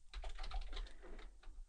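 Quick, light keystrokes tapping on a computer keyboard, a soft irregular run of clicks close to the microphone with no speech.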